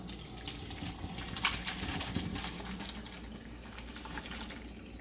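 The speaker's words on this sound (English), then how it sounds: "now I put a colander in my sink here, and I'm going to pour this in" Pasta and its cooking water poured from a pot into a colander in a kitchen sink, a continuous rushing, splashing gush of water, soft and steady with no talk.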